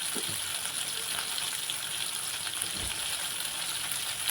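Four garlic cloves sizzle in hot oil with dried red chillies for drumstick gravy, a constant soft hiss with faint crackles, close and steady, no voices.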